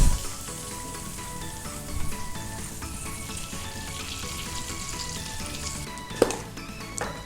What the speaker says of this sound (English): Yeah, sizzle baby.